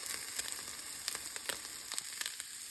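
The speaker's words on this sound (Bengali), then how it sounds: "চিকেনটারে হালকা তেলের সাথে ভেজে নেবো মশলার সাথে" Chicken frying in a little oil with spices gives a steady, fairly quiet sizzle broken by sharp crackling pops scattered throughout.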